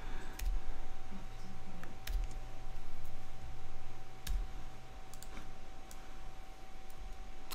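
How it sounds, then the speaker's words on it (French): Computer keyboard arrow keys are pressed while working in Adobe Illustrator 2025, a handful of sharp, isolated clicks spaced irregularly over a low steady hum, with no talking. "si je joue avec les flèches au clavier"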